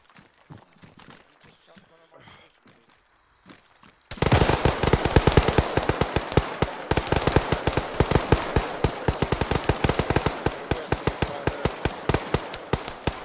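After a quieter stretch with faint voices, rapid machine-gun fire erupts in Rangers Lead the Way, a long, loud, sustained run of sharp shots with dense battle noise behind it.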